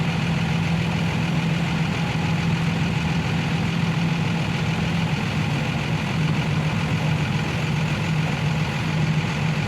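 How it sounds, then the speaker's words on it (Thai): A Sany XY135C excavator engine idles nearby in a steady, even, low rumble that holds unchanged throughout without any talk. "ตักก็จะอยู่กับซานนี่ XY 135C นะคะ"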